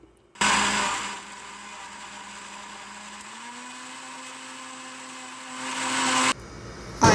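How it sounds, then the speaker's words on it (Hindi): A blender runs steadily, grinding apples, peanuts, sugar and a splash of milk into a milkshake, its loud whirring motor starting abruptly, dropping slightly in pitch, then rising again before cutting off. "सेब, मूंगफली, शुगर, थोड़ा सा दूध डाल के इसको ग्राइंड करेंगे पहले"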